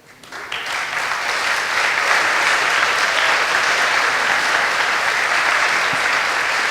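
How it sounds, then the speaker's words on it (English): An audience at a live fan convention panel in Prague bursts into sustained, even applause, building quickly within the first second and holding steady and full for several seconds. "I want you all to give him a clap."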